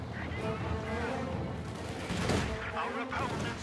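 Rapid anti-aircraft gunfire from a Centaur tank in Company of Heroes 2, a dense continuous burst of shots with booming battle noise, steady and loud throughout.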